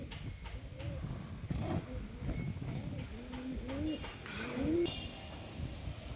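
A pair of domestic pigeons, male and female, coo repeatedly close by in a home loft, their rising and falling calls overlapping against a low, busy background murmur.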